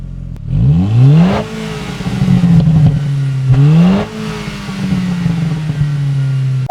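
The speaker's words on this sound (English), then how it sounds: "the iconic GTI dual tailpipes, which sound pretty average." Mk5 Volkswagen Golf GTI revving through its dual tailpipes, close and loud: two sharp rising blips that fall back to a steady idle between them.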